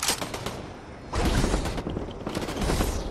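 Fortnite gunfire rattles in dense, rapid bursts, one at the start and then a longer sustained volley, loud and close with no talking.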